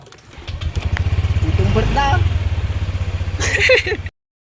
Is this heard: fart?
no